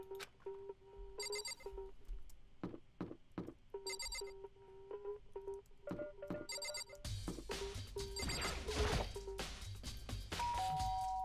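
Repeated electronic doorbell chimes in the Danganronpa video game, bright tonal ding-dong tones sounding in several bursts with clicks between, followed by a louder stretch of game sound.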